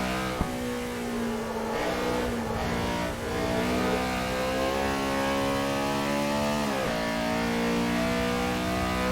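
Honda Civic 86 racing around Cadwell Park in Assetto Corsa, engine droning steadily at high revs with rising pitch sweeps as it accelerates, brief drops at gear changes and lifts, continuous and prominent without talk.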